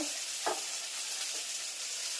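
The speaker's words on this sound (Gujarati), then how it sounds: "સરસ મજાનો વઘાર થઈ ગયો. એમાં નાખ્યો હવે મસાલો," Spices are stirred into hot oil tempering for a pea curry, giving a soft, steady sizzle with a brief scrape of the stirring spoon early on.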